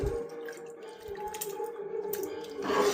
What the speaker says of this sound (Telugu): వాటర్ అయితే వేసుకున్నాను.